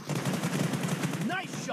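Gunfire in the video game PUBG comes as a rapid, dense burst of automatic shots, loud and sustained across the short stretch, followed by a brief tonal game sound at the end.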